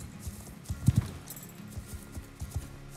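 Clip-clop hoofbeats from a horse in the Star Stable video game, a run of hoof strikes with a sharp louder double thud as it hops a small obstacle, then steady footfalls resume.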